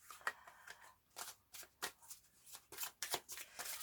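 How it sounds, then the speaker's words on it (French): Tarot cards shuffled by hand before a three-card draw, giving a run of crisp riffling and slapping bursts at an uneven rhythm, close and fairly quiet, with no talking. "nous allons tirer, je vais tirer 3 cartes"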